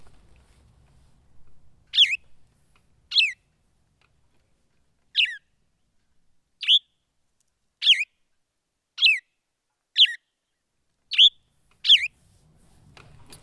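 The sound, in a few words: recorded birdsong of the Graveyario bird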